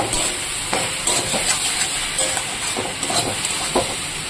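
Cabbage frying in a pan with turmeric, a steady loud hiss and sizzle throughout, broken by repeated scraping strokes of a spatula as it is stirred.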